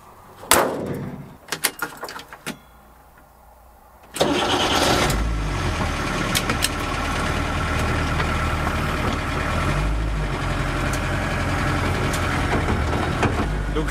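A Peugeot P4, a rugged, basic military-style 4x4, is cranked with a few sharp bursts before the engine catches at about four seconds, then settles into a loud, steady, rumbling idle close by for the rest.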